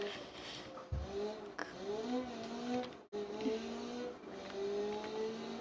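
A BMW in BeamNG.drive accelerating hard toward a jump, the engine note climbing in rising revving sweeps with brief gear-change dips and a sharp break midway, fairly faint and without talk.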